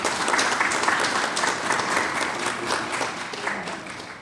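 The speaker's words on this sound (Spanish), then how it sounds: "Un fuerte aplauso y bienvenida a la compañía" Audience applause welcoming guests at a panel event, a thick continuous clapping from a room of people, close and steady with slight swells in loudness.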